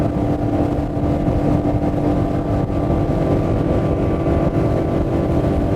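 A Dromeas 28CC motorboat runs at speed, its engine droning loud and steady with constant hull and water rush, no voices over it.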